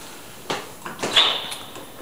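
Interior door leading to a standard two-car garage in a house being shown, opening with a few brief knocks and a scraping swing around the middle, fairly close and moderately loud, no talking.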